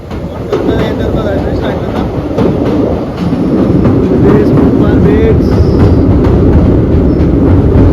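A passenger train rumbles loud and close across the British-era Pamban bridge near Rameswaram, with steady wheel clatter and rhythmic clickety-clack, swelling slightly as it runs on.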